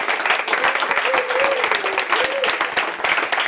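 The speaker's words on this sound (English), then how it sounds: "a round of applause for" Audience applause at a music industry talk in London: steady, crowded clapping with a voice speaking briefly over it.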